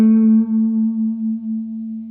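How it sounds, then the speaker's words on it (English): Electric blues guitar with effects and echo sustaining one note bent slightly up from a minor third, ringing loud and alone with a gentle wavering pulse as it decays. "what I most of the times do is bend this minor third up just a tiny little bit"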